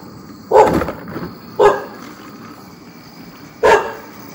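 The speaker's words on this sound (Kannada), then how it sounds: "ನಾಯಿ ಕಾಟ ಕೊಡೋಯ್ತಿದೆ" A dog barks three times outdoors, the sharp barks spaced irregularly at moderate distance over a low background hum.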